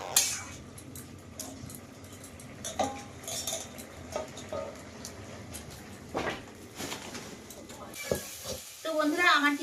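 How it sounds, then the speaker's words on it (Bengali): Greens frying in a wok (kadai) in a Sundarbans home kitchen, with steady sizzling, clinks of a metal utensil and scraping stirs over the pan; the sizzle grows louder near the end. "আর ওই সাইডের কড়াই কিন্তু শাক ভাজা বসিয়ে দিয়েছি।"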